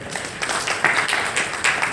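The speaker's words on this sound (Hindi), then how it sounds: "तो एक बार जोरदार तालियां सर के लिए" An audience at a business seminar in Mainpuri applauds the speaker, a loud crowd of clapping swelling in waves over two seconds with no talk over it.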